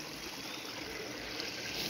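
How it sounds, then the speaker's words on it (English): A small waterfall in a shallow river, heard as a steady, moderately faint trickling and rushing of water that continues evenly throughout, with no voices. "It's like a little waterfall."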